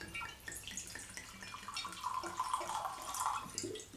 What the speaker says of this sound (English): Nice pour.